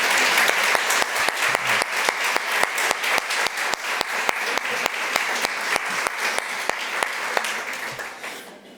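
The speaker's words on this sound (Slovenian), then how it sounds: "da si zaslužijo en velik aplavz" An audience at a lecture event gives sustained applause, dense crisp clapping running steadily for nearly nine seconds before tapering off at the end, with no talk over it.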